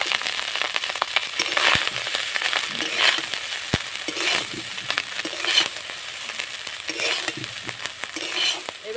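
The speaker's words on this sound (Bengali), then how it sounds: "এবার আমি রাইসটা দিয়ে দেব।" Minikate rice stirred into hot ghee in a pan, giving a steady crackling sizzle with scraping stir strokes and a few sharp spatula knocks, close and continuous with no talking.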